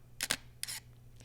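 Shutter of a 51 megapixel medium format camera firing, two sharp close clicks in quick succession, then a second brief double snap and a faint trailing click, crisp and near in a quiet room.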